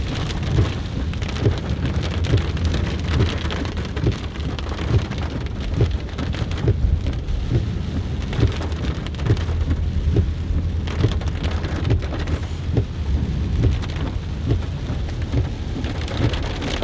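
Heavy rain from Tropical Storm Isaias in Pennsylvania pours steadily and loudly, a dense close hiss of drops pattering on surfaces with low rumbles underneath, no voices.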